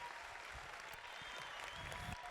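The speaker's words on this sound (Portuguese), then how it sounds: "uma palmas para todos nós, porque nós merecemos" Steady applause from an audience at a church musical, a continuous wash of many clapping hands heard at a distance, even in level throughout with a faint crowd murmur beneath.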